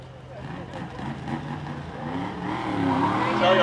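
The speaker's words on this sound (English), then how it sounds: "our pace vehicles for tonight's festivities" DeLorean pace cars driving past at Riverhead Raceway, a steady engine drone that swells louder toward the end, with a voice talking over it.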